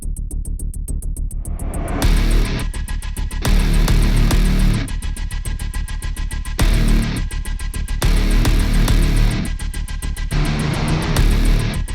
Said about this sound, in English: Just a little doom style metal.